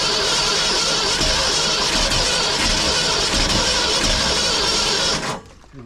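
A 1968 Ford F100 truck engine cranks steadily and loudly, a continuous rough churning with engine noise for about five seconds before cutting off abruptly.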